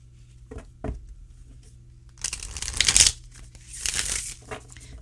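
A tarot deck being shuffled by hand: a few soft taps and handling noises, then two bursts of crisp riffling cards, close and alone.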